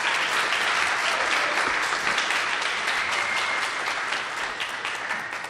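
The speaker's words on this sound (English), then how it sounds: "So, round of applause for Marty." An audience claps steadily for a performer at a Christmas show, a dense even wash of applause that fades slightly toward the end.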